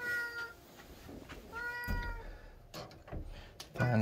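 Cats meow near a feeder, with several short, fairly faint meows and a few soft knocks in a quiet room.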